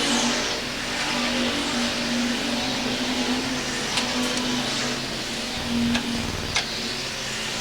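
IMCA race cars roaring around the oval at I-35 Speedway, a steady loud engine drone with revving rising and falling as cars pass, and no talk.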